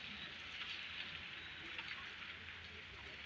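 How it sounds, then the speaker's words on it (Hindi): Steady, hissing downpour of heavy rain, constant and fairly faint, with a dense wash of drops and no voices or other sounds. "इतनी तेज बारिश है, देख लो आप देख लीजिए"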